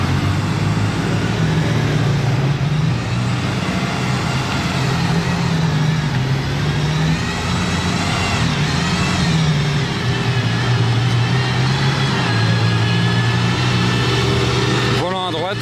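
A very fast right-hand-drive car climbs a wooded hill road, its engine roaring loud and continuous with rising and falling revs, while people talk nearby.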